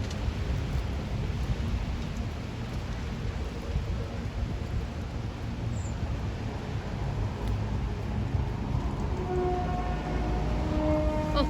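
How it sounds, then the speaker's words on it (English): A train runs past the Sleaford east level crossing on a windy day, a steady broad rumble of rolling wheels with faint tonal hints toward the end, fairly loud and continuous with no talk. "Off goes that train."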